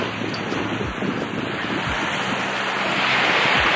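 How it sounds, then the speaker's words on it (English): Ocean waves wash onto a beach at sunrise on the Gulf Shores coast, a steady broadband surf roar with low rumbling swells and some wind noise on the microphone, close and continuous. "listen to those waves"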